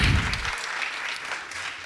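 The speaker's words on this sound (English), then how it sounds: "Please give a huge round of applause." A seated audience at a literature festival talk applauds, a dense patter of clapping that starts strongly and then thins out over a couple of seconds.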